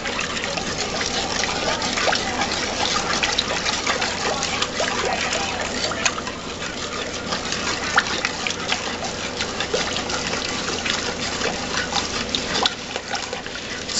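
Sugar is stirred into liquid heating for homebrew Skeeter Pee, giving a steady close wash of liquid swishing and scraping that stays even throughout.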